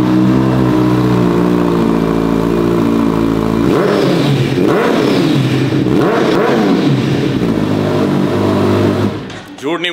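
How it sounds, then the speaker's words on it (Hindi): A superbike with an aftermarket exhaust idles loudly and steadily, then the rider blips the throttle through several sharp revs, each one climbing and falling back. The engine is close and dominates the whole stretch. "इस आवाज को इस बाइक को मैं तो मिस करने वाला हूँ।"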